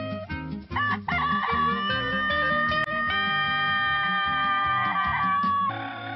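A Japanese-bred rooster crows in long drawn-out calls, loud and close, with a few clucks and other fowl noises around it and no talk.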